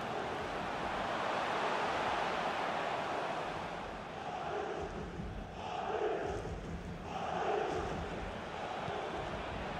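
Stadium crowd in FIFA 23 during a Real Madrid versus FC Barcelona match, a steady loud roar of fans with swelling cheers and chanting bursts rising midway.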